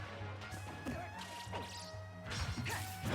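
A down smash attack with a plasma cannon in a video game lands with sharp crashing impacts and whooshes, several hits in quick succession amid game effects, fairly quiet overall.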